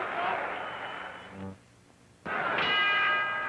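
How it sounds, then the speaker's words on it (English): In a 1961 Archie Moore vs. Giulio Rinaldi boxing match, the ring bell clangs for round two over crowd noise, with a commentator's voice around it. "There's the bell for round 2."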